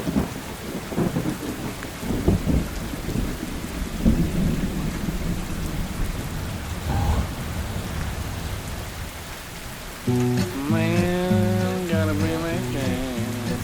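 Steady rain and rolling thunder on a patio during stormy weather, with broadband rain wash throughout and deep rumbles; a harmonic tone joins near the end.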